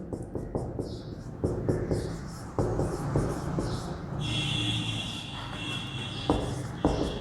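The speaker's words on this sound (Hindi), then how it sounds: "लिख देते हैं हेडिंग" A heading written out by hand during a Hindi-language lecture on inverse trigonometric functions: a steady run of close, scratchy strokes with short taps and pauses between words, and no talking.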